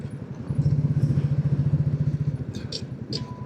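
A Royal Enfield Classic 350 single-cylinder motorcycle on a windy coast road thumps in a low, rhythmic putter close by. It swells briefly, then eases off, with light clatter and a few short higher noises over it.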